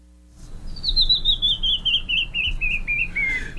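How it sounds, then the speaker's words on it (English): A small brown songbird singing a clear, close series of about a dozen rapid, evenly spaced whistled notes that descend gradually in pitch, heard alone over faint background noise. "There it is, the sound of our mystery bird"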